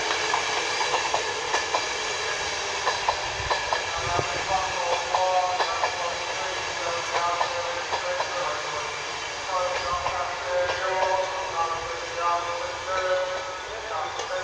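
An LNER Class 91 train rolls past Newark Northgate station on the East Coast Main Line, a steady rumble with repeated clattering over the rails, under platform announcements.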